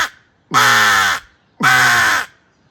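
A crow answering a crow call outdoors, with two loud, drawn-out harsh caws close by, separated by a short pause.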